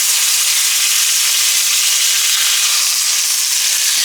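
Salmon frying in a pan, a steady loud bright sizzle and crackle of hot oil that runs on without pause and with no voices.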